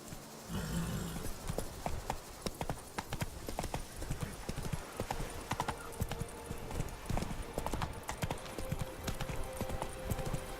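Hooves of Roach, a horse in the video game The Witcher 3, clip-clop in a quick, steady rhythm over a busy game background, with brief moments that may include a voice.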